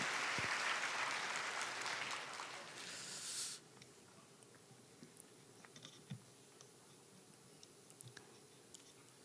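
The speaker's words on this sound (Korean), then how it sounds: "박수 한번 해주세요" A church congregation at a Christmas service claps together for about three and a half seconds, a dense wash of applause that stops abruptly, leaving a quiet room with scattered small knocks and shuffles.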